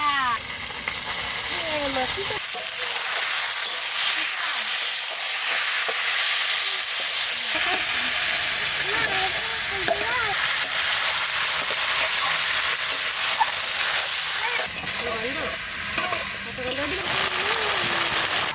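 Duck meat with onion fries in oil in a pan for an Assamese duck curry with ash gourd, a loud, continuous sizzling hiss that runs throughout while a person talks over it.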